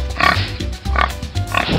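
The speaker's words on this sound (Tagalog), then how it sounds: "nakasalubong niya ang isang baboy sa daan" A pig in a children's story grunts three times in a steady rhythm, loud and close, with each short grunt separated by a brief pause.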